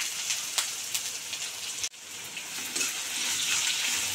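Finely chopped onion sautéing in a pan for a spicy Maharashtrian sandge curry, a steady close crackling sizzle with brief stirring scrapes and one short dip partway through.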